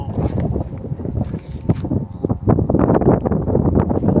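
Wind buffets the microphone in loud, uneven gusts with low rumbling and rustling throughout, out on an open farm on a hot afternoon.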